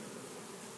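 Swarm of honey bees at a hive removal from a church wall, a dense, continuous buzzing hum filling the short clip with no talk.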